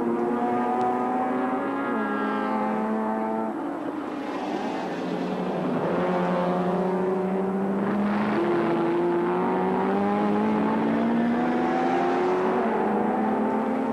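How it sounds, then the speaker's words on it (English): Loud, continuous engine roar from several V8-powered sports sedan race cars speeding down a straight at around 240 km/h, their pitch rising and falling as they accelerate and shift through the gears. "Very fast down the straight, the big V8 powered cars."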